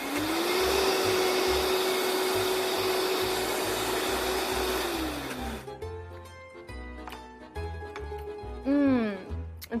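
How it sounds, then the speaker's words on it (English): A blender purees a creamy dairy-free sauce with a loud, steady whir for about five seconds before winding down, followed by clattering kitchen noises and brief talk. "I'm gonna give it one more good blend."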